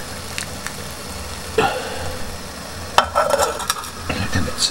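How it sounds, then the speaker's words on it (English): Water boils on a budget summer camping stove, a soft continuous bubbling and hiss with a few louder pops and metallic ticks from the pot, close by and without talk. "The water is boiling,"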